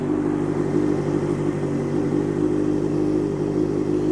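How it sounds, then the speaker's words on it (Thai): A Honda CB650F Limited four-cylinder motorcycle fitted with an SC exhaust idles close by, giving a steady, even engine hum with a smooth rumble that holds constant throughout, with no voices. "ฟังเสียงท่อเอสซีนี่ สนุกเลยสี่สูบ"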